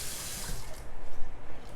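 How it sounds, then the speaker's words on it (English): Tap water runs steadily over hands at a kitchen sink while a cook makes chicken and sausage pasta, a short soft wash with a light splashing texture. "Wash my hand off."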